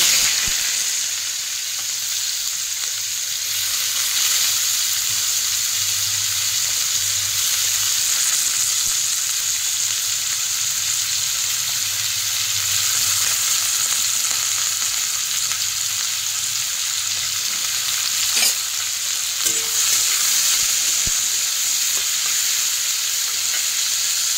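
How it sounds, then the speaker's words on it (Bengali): Potato and onion frying in hot oil in a home kitchen for chowmein, a steady close sizzle running the whole time with occasional stirring clinks, no voices. "আলু পেঁয়াজ ভেজে দিয়েছি"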